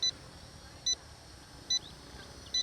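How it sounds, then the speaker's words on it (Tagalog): A drone remote controller sounds low-battery warnings: four short, high, faint electronic beeps spaced at regular intervals of under a second, over quiet background hiss. "And bumilis yung beep nung controller."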